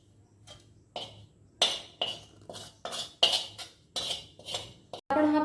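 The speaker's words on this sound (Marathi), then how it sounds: "आता ही उकड आपल्याला ना परातीमध्ये काढून घ्यायची आहे." Cooked chakli dough (ukad) is transferred into a wide plate with a utensil, producing a series of sharp metallic scrapes and clinks in a regular rhythm, close and fairly loud.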